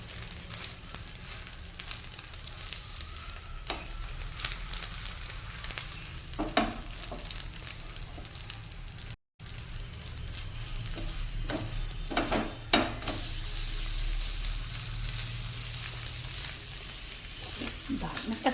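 A thick egg and cheese paratha frying in butter in a pan over low flame, continuous sizzle with repeated scraping and turning of the spatula, close and fairly loud, with brief quiet talk at moments.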